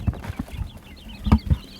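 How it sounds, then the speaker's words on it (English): Baby quail chicks give faint, high peeping chirps close by, mixed with soft thumps and rustling. "I want to show you guys the baby quail"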